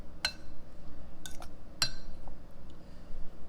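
A big metal fork clinks against a bowl while cheese curds are coated in batter: three sharp, bright clinks spaced apart, close by, with faint wet batter sounds between them and no talk.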